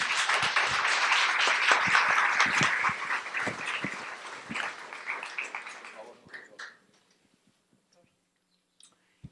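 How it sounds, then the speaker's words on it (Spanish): An audience applauds to welcome a speaker at a book launch, dense clapping for about six seconds, then thinning to scattered claps and fading into near silence. "Por favor, recíbanlo con un aplauso."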